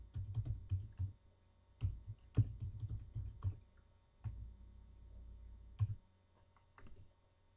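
Bursts of close computer keyboard typing while entering Visual Basic loop code, quick clusters of keystrokes separated by short pauses, quiet and with no talking.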